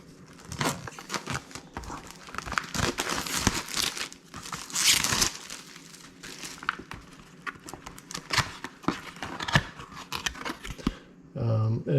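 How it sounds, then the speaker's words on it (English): A Topvision jump starter battery bank being unboxed, its plastic packaging crinkling and rustling in repeated close bursts, with occasional tearing and a brief clack near the end. "I'm going to go ahead and unbox the jump starter"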